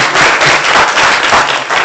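Applause and clapping from the audience at a Putnam County, Tennessee commission meeting, loud and close, a brief steady burst with no talking.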